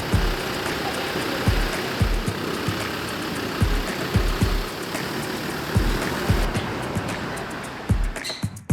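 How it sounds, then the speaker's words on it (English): A Land Rover Defender's heavy engine runs steadily nearby, a rough, throbbing drone with regular low knocking pulses and vibration, no voices over it. "We got a Land Rover Defender."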